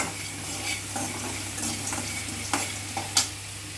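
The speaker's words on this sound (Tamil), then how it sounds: "நல்லா பொரிஞ்சு வருது" Sesame seeds frying in a pan give a close, steady crackling sizzle with several spoon scrapes and a sharper clink near the end, no voices.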